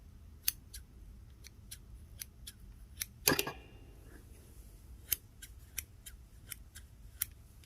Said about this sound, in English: That is some very nice sharp scissors there.